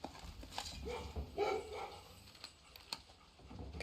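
Faint, soft barks from a puppy in the video game Blue Prince sit beneath low game ambience, coming as a few brief yips rather than a steady run of barking.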